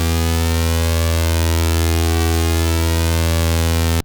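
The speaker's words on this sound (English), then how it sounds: "And here's flanger." A sustained synthesizer tone run through a flanger effect, a loud, rich buzzy chord with slowly sweeping, swirling comb-filter motion, held steadily for about four seconds before cutting off.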